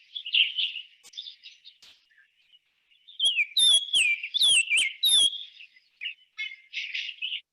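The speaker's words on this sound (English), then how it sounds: "So most orioles have that kind of a clear whistling song." Clear, sweet whistled bird song in short phrases, with a quieter passage before a louder burst of slurred, liquid notes; fairly close, no other sounds.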